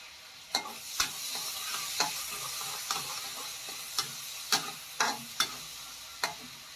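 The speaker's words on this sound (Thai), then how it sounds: "ใส่พริกเผาลงไปนะครับพริกเผาของตัว มาม่า พริกเผาอย่างเดียว" Thai chili paste stir-fried in a hot pan for Mama instant noodles: a steady sizzle broken by a rhythmic series of sharp spatula scrapes and taps, close, with no talking.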